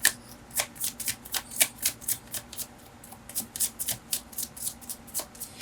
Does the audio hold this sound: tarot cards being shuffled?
yes